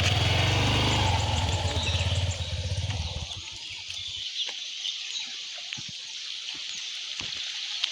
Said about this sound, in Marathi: बाईक काढली आणि फेरी मारतोय